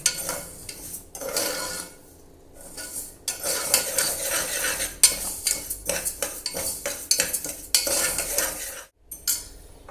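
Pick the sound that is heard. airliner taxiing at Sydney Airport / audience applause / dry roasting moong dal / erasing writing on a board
dry roasting moong dal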